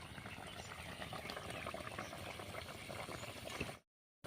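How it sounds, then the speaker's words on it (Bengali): Fish curry seasoned with fenugreek and fennel seeds bubbling in a pot, a steady dense boiling wash that runs evenly for several seconds before cutting off. "মাছগুলো দেওয়ার পরে আমি 4 থেকে 5 মিনিট ফুটিয়ে নেব"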